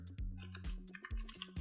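Computer keyboard typing in short bursts of crisp key clicks, close and fairly quiet, over a steady low electrical hum.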